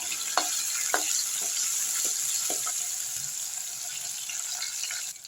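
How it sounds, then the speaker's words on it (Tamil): Steady hissing sizzle of small onions and chillies frying in hot oil in a clay pot, close and fairly loud, with a few soft clinks of a spoon stirring. "சாம்பார் வெங்காயத்தை நல்லா நிறம் மாதிரி வதங்கட்டும்"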